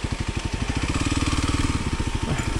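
Kawasaki KLX 300 four-stroke dirt bike laboring up a steep hill, its close, loud single-cylinder engine thumping in a steady rapid pulse under load without a break.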